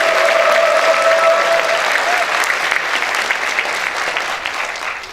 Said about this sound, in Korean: 큰 박수 한번 부탁드리도록 하겠습니다